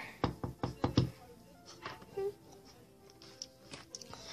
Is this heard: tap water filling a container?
no